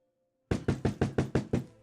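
Knuckles knock on a door, seven quick, sharp, evenly spaced raps after a brief silence, close and loud, with no talking.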